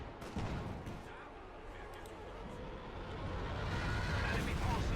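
Artillery shells land in Company of Heroes 2, a dense, continuous rumble of distant impacts and crackling blasts that swells louder toward the end, with no speech over it.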